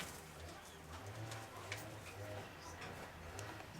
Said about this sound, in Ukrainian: Чисто Миколаївський голуб